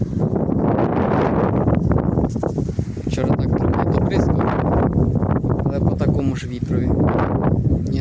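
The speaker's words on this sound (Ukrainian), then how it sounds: "Знову вітра щодня дують." Steady, heavy wind roar buffeting the microphone throughout, with rustling gusts and a person talking underneath, outdoors in a vegetable garden.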